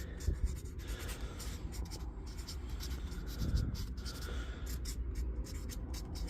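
A pen scratches across paper in steady, continuous strokes, close and fairly quiet, with no one talking over it.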